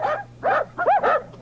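A dog at a birthday party gives four quick barks or yelps in a steady rhythm, loud and close, with no voices over them.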